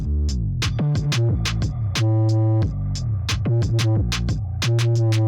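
Distorted, buzzy tones from guitar amp presets play a rhythmic pattern over a steady low bass drone, with sharp percussive hits punctuating throughout.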